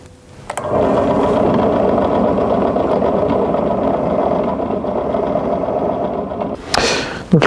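Drill boring a hole through a folding knife handle in a workshop, a steady buzzing motor whine running for about six seconds, close and constant, then stopping with a brief clatter.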